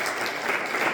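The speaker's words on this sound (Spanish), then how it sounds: "Denle un aplauso fuerte a su nombre" Dense applause from a church congregation fills a short moment, steady and close with no pause.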